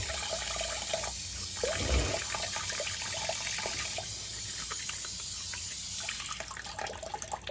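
Water from a bathroom sink drains away with continuous gurgling, trickling and sloshing, fairly close and steady, briefly swelling into a deeper glug before settling back into a constant run.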